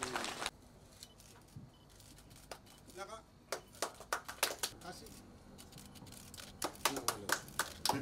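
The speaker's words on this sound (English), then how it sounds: "Big round of applause, ladies and gentlemen." Scattered, fairly quiet clapping from an audience at the opening of a fire station, starting thin and building into denser bursts of claps toward the end, with some voices underneath.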